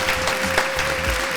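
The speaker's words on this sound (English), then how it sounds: "We're going to hit y'all with a round of applause before we go" A short round of applause at the close of a men's discussion session, a soft, steady patter of many hands clapping at a distance, with a faint voice underneath.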